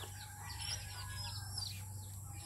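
Backyard chickens, three roosters and a hen, crow and cluck close by in a steady burst of calls over a constant low hum, with no talk.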